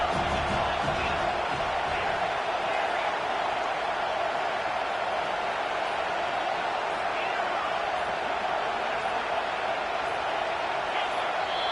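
Stadium crowd in College Football 25 roars steadily as a dense, sustained wall of cheering throughout, loud and continuous with no pauses, while a commentator talks over it.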